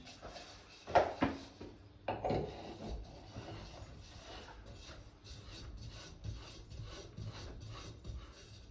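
A shower head screwed on by hand onto its fitting makes a few close scraping and grinding twists, with a couple of louder knocks early on, then softer rubbing turns.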